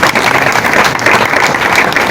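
Applause fills a short burst at a political party gathering in Kinshasa, dense and fairly loud, without a clear start or finish.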